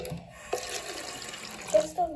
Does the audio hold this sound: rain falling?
no